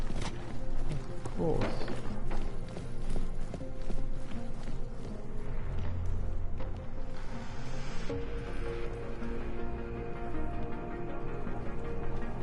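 Hoof beats of a horse in the video game Deus Ex on PS4 clip-clop under game music and ambience, with a person speaking briefly over the scene.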